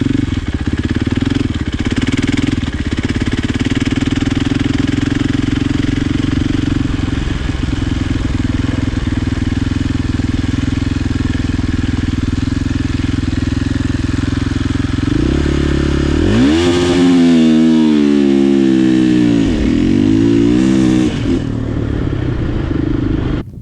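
A 2024-26 KTM 500 dirt bike roars loudly and close as it is ridden, a steady buzzing drone with clattery grit, then sharp revs sweeping up and down near the end.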